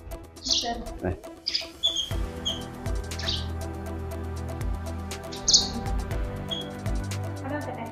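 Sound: tamed pet birds chirping

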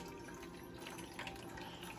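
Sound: water poured from a cup into a coffee maker

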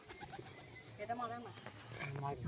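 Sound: pigeons cooing

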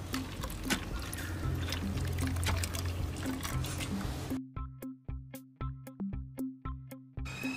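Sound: pouring coconut milk into watermelon juice

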